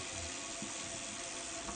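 Water runs steadily from the faucet into a small hotel-room kitchenette sink at the GALLERYone Doubletree by Hilton in Fort Lauderdale, a continuous close hiss with no talking.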